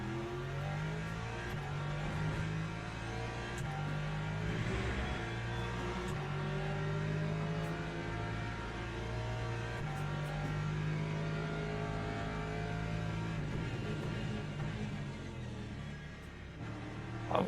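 Hypercars roar past in Le Mans Ultimate, a sim racing game: a dense, steady engine drone with layered revving tones holding loud throughout, several cars blending together with no pause.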